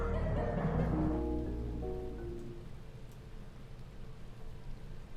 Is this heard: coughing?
no